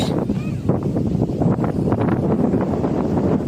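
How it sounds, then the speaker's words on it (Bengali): Wind blows outdoors among many trees in Rajshahi, Bangladesh, a steady broadband rush and buffeting against the microphone throughout, with a voice faintly heard at times. "কি সুন্দর বাতাস"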